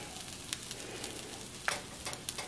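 French toast, bread soaked in a batter mix, frying in a pan on a stovetop set to medium heat, giving a soft, steady sizzle with a few sharper pops and crackles.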